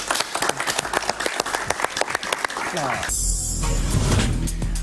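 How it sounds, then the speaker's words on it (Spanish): Steady applause from an audience swells and fills the room, following a stretch of busy clapping and crowd noise. "Un aplauso para él, por favor."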